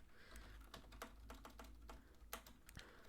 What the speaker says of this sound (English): Might as well just start typing stuff and hoping it works.